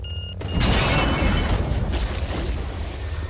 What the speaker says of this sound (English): I could shoot him with a rocket.